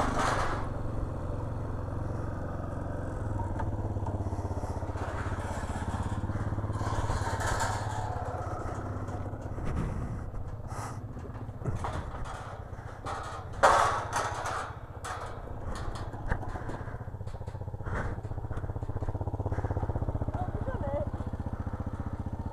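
Motorcycle engine droning steadily while riding a dusty green lane in Derbyshire's Peak District, with a brief louder bump midway; a person talks over the ride.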